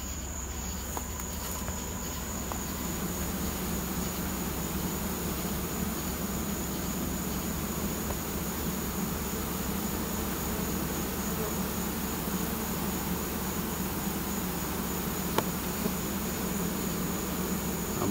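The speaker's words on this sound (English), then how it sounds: "Walking in about 7 pounds of bees." A constant, droning hum of about seven pounds of honey bees being carried in during a hive removal, steady and unbroken throughout, with a faint high whine above it.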